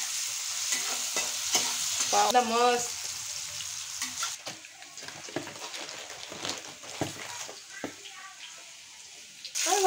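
Chopped vegetables with capsicum fry and get stirred in a pan at home, a steady hiss of sizzling with scraping stirs throughout, while a person talks over the cooking.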